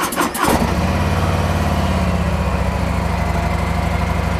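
A car engine cranks briefly, then catches and settles into a steady, loud idle close by, with no voices.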